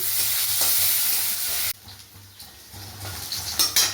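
Chopped onion hits hot oil with bay leaf, dried chilli, five-spice seeds, cinnamon and cardamom, giving a loud hissing sizzle that drops suddenly to a quieter crackle as stirring scrapes and clinks follow.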